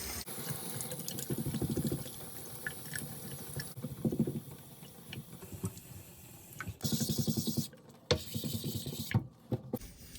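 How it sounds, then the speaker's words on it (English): Gently running water trickles over a natural whetstone during razor honing, a soft steady wash with faint scraping and clinking mixed in, rising in a few brief louder bursts. "I like to keep some gently running water so that I don't have too much stiction"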